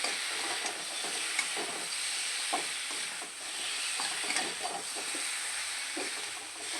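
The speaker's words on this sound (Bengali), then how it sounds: "মশলার সঙ্গে ডাঁটাটা একটু ভালো করে কষিয়ে নিতে হবে।" Drumstick pieces (sojne data) being stir-fried with spices and mustard paste in a pan for a vegetarian dish, giving a steady close sizzle broken by soft scraping stirs throughout, with no talking.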